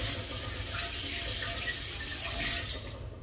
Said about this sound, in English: I think I'm going to rinse these potatoes again anyway.